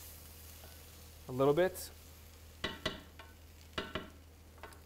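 Flour being stirred into hot oil in a pot: faint scraping and soft clinks of a utensil at the pot, a few brief strokes under a steady low hum, with a short spoken phrase.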